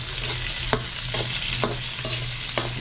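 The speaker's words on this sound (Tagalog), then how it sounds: "He is continuing the sauteing." Vegetables for pakbet sizzle steadily in a very hot pan with tomato and aromatics, a continuous frying hiss broken by several distinct stirring scrapes at a slow, irregular pace.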